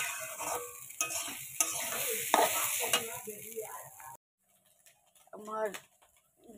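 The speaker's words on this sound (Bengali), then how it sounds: "এখন একটু নাড়াচাড়া করব।" Rice simmering in a pot is stirred with a utensil for about four seconds of close scraping and bubbling sizzle, then the sound cuts out and a brief voice speaks.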